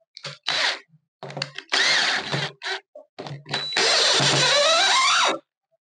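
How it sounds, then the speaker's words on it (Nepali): Ingco 20 volt cordless drill drives screws in a series of loud, whirring bursts separated by pauses, ending with a longer sustained run whose motor pitch shifts as the screw seats. "स्क्रुहरू एकदम मजाले जान्छ है त तपाईँलाई म देखाइदिन्छु"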